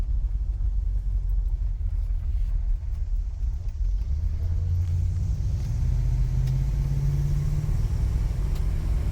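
A 1974 Chevy Impala rolling down a driveway, a steady low engine and tire rumble close by, continuous and fairly loud with a slight rise in engine tone toward the end, no talking.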